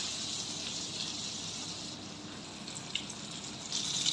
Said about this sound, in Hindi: अब हम उसको करेंगे डीप फ्राई, तेल हमने पहले से गर्म किया हुआ था